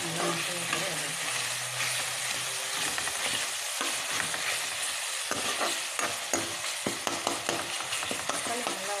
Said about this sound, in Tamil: கொஞ்சம் நல்லா வதக்கிட்டு இன்னும் கொஞ்சம் நல்லா மசாலா கூட வதக்கும்.